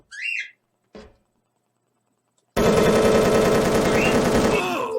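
Rapid automatic gunfire from Wolfteam bursts in after a couple of short whistle-like blips and a faint thump, a loud, continuous rattle lasting about two and a half seconds.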